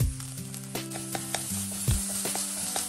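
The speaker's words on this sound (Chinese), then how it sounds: "锅里倒点油，快速的把鸡蛋炒散" Eggs stir-fried in hot oil in a wok make a steady close sizzle, with several sharp scraping clacks from the spatula against the pan.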